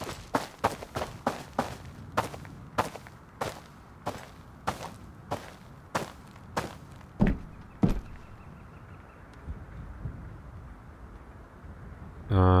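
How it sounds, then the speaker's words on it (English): Footsteps in the video game Road to Vostok come as a steady run of distinct, fairly close thuds that slow and space out before fading. A brief burst of another sound comes at the very end. "Did I just hear a footstep?"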